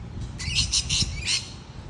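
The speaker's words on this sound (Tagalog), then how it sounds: "Yun na lumalapit sila dyan yung mga kukato yan oh." Cockatoos in Australia squawk as they gather around food, giving a run of four or five harsh, closely spaced calls from nearby over a low background rumble.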